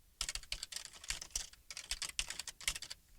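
Rapid typing of a short database command on a computer keyboard, a close, quiet patter of key clicks in several quick bursts with brief pauses between them.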